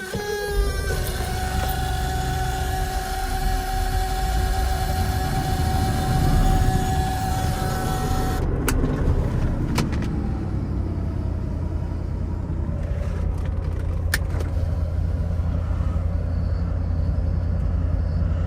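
A Mercedes 450SL R107 coupe driving, heard as a steady low engine and road rumble from inside with a whining tone early on, then some clicks and knocks over a continuing drone.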